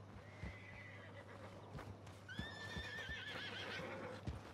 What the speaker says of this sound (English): Oh, that's a crazy horse.